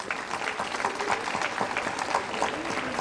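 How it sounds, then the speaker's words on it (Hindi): Audience applause at a girls' college annual function honouring prize winners, a sustained wash of many hands clapping at moderate volume for about three seconds. "उनके लिए जोरदार तालियां सभी के द्वारा"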